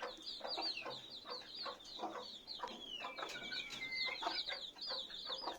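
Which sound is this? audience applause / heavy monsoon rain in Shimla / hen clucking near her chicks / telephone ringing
hen clucking near her chicks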